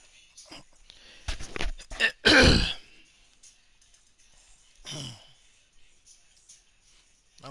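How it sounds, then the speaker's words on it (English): A man clears his throat and coughs in a couple of harsh bursts close to the microphone, followed by quieter breathy sounds and silence. "I was in a mid cough."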